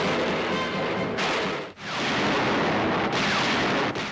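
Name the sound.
tank sound effects from the film Rodan (1956)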